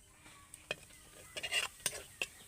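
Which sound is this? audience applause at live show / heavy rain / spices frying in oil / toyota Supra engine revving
spices frying in oil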